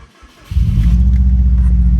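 A Subaru Impreza WRX engine starts up just after a brake pad change. A short crank catches into a loud, close, steady low idle rumble.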